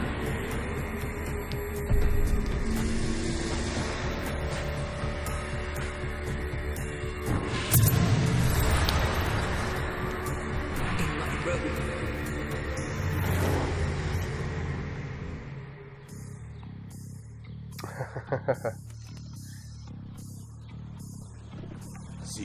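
A car in the video game Hitman Absolution rolls along a road, its engine humming and rumbling steadily before fading and giving way to quieter game sounds and a few clicks near the end.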